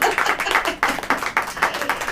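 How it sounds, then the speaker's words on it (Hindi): Congregation clapping hands in a steady rhythm during a church sermon, roughly a dozen crisp claps over two seconds, fairly loud and close with no talk over them. "ताली बजाओ।"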